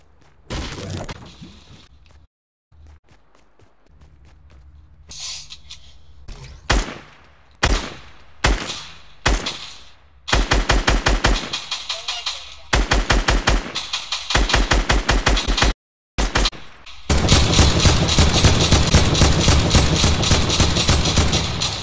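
Video game gunfire in Fortnite Creative on Xbox: scattered single shots and short bursts build into loud, sustained automatic fire, with brief silent gaps, and no talking.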